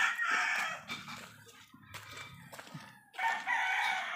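Chickens cluck and a rooster crows nearby, calls coming in short bursts with brief quiet gaps between.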